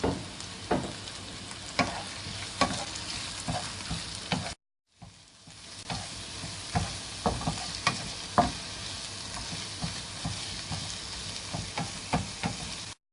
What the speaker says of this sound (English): And we're going to keep frying it until it turns into a nice brown color.